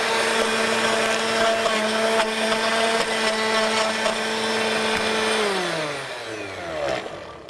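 A blender grinds a banana smoothie with a loud, steady motor whine that labours and drops in pitch near the end as the blades bog down on the fruit, with no talking.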